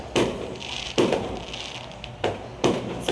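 New Year fireworks and firecrackers going off nearby in four sharp, loud bangs spaced about a second apart, each followed by a brief crackling decay, with no talking.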